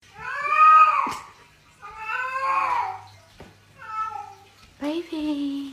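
A cat meows and caterwauls in several drawn-out, wavering cries with short pauses between them, close and clear over a faint low hum.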